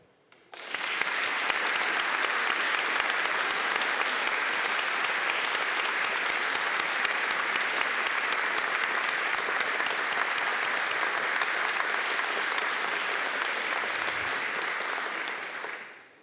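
Sustained, dense applause from an audience at a school anniversary ceremony for the head of studies marking her 40th year in the post, beginning abruptly and holding steady for about fifteen seconds before tapering off.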